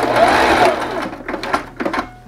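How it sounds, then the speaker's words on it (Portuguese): A sewing machine runs close up, stitching a cloth face mask in a fast whirring burst that slows into a few short, stuttering runs of stitches, with no talking. "E agora eu vou costurar até aqui, deixando espaço para me desvirar."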